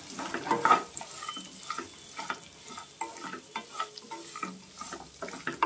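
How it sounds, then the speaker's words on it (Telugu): Peanuts fry in hot oil for foxtail millet upma, giving off a steady low sizzle broken by scattered sharp crackles and pops. A louder burst comes near the start, and there is no talking. "ఇప్పుడు పల్లీలు వేసుకోండి, ఆయిల్లోనే వేసేయించుకోండి"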